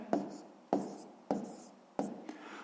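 Pen strokes as numbers are written by hand for a column multiplication, four or five short, crisp scratching bursts in an even rhythm, close by and alone.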